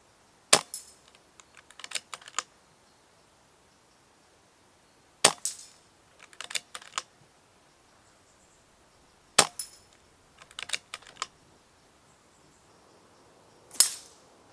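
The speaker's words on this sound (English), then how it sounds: "You can see I've shot the rifle from a few positions." An ATA Airbourne .177 PCP air rifle fires four sharp, close cracks spaced several seconds apart, each followed by light clicks of the action being cycled, with quiet between and no talking.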